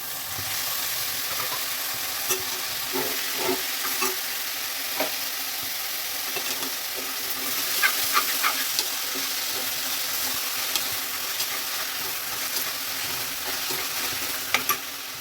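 Tomatoes frying and being stirred in a pan while cooking tomato bath, a steady sizzle with scattered clicks and scrapes of a spoon against the pan throughout, close and even, with no talking.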